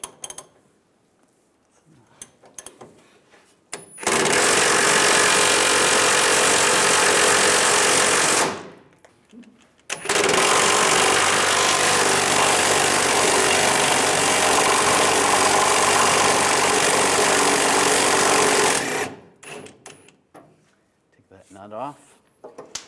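Leaf spring nut on a 2007-2013 Chevrolet Silverado 1500 being loosened with a power tool and 24mm socket: two loud sustained bursts of harsh rattling hammering, about four and nine seconds long, separated by a brief pause, with quiet handling noises before and after.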